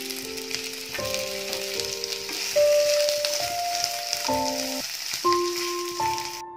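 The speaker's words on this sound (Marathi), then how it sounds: "त्यामध्ये आपण आता 5 ते 6 लसूण पाकळ्या टाकू आणि साधारण 1 चमचा तेल टाकून हे चांगलं फ्राय करून घेऊ।" Garlic cloves frying in about a spoonful of oil in a pan for a spicy mutton sukka masala, giving a steady close sizzle, with music playing over it and no voices.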